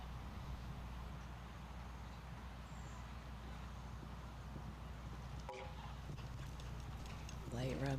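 Mare's hooves in a show jumping round at an open welcome class, faint quick clip-clop footfalls under a steady arena hum, distant and quiet, with a brief clatter near the end.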